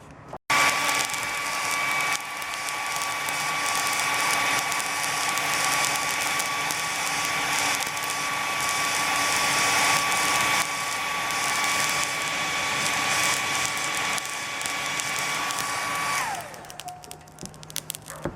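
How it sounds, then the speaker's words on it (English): A hair dryer blowing on coals to heat steel for knife heat treating roars steadily at close range for most of the clip with a faint whine, then cuts off near the end and winds down. "Now just blow the hairdryer on it until it starts to get really hot and glow red"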